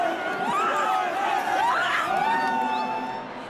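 Crowd pouring onto the pitch at Croke Park after the 2006 All-Ireland Senior Hurling Final between Cork and Kilkenny, a dense swell of cheers, whoops and chatter held close and loud before fading slightly at the end.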